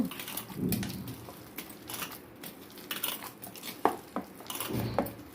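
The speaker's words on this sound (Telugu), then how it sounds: "ఒకసారి మొత్తం కలిపేసుకుందామండి" Masala vada batter, a ground lentil paste with salt, being stirred and mixed in a bowl gives wet squelching and scraping with occasional utensil clinks against the bowl, close and moderately loud, with no talk.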